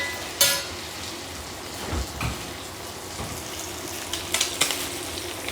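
A lamb shoulder being rolled around in butter in a tray, a constant sizzling hiss with soft wet shuffles and a few clinks as the meat is moved, close and moderate in level.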